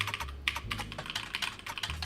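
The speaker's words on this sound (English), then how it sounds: "the keyboard noises are a bit crusty." Short bursts of computer keyboard typing in the game The Roottrees Are Dead, slightly rough-sounding clicks arriving in quick irregular clusters, close and clear over a faint low hum, with no voices.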